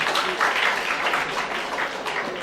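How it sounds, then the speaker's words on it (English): A round of applause from an audience at a college magazine launch, steady close clapping in a dense wash that fades slightly toward the end. "we have to give him a big round of applause"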